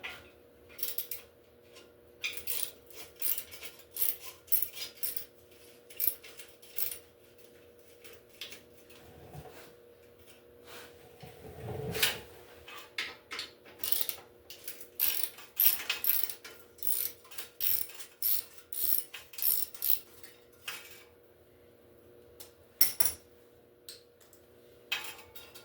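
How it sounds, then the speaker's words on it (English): Heat shields come off the exhaust pipes of a Harley Softail as hand tools ratchet and click in quick bursts, broken by metallic clanks and a louder scrape midway, close and intermittent throughout. "First thing I got to do is pull all these heat shields off."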